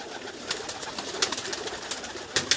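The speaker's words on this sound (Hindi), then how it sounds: "ये कबूतर है टैडी," Teddy pigeons coo repeatedly in soft, irregular bursts with a few sharper notes, set against steady background hiss from a loft.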